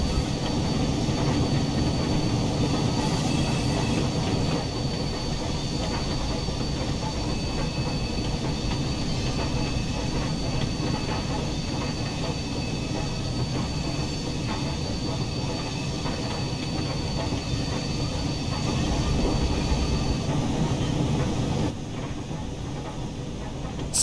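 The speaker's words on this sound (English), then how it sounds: "You can see from the right a train coming from the siding area." Train rumble and rail noise as a train comes off the siding area near Miles Platting, heard from aboard the Flying Scotsman steam locomotive's train: a continuous loud, steady roar with no talk, easing slightly at the very end.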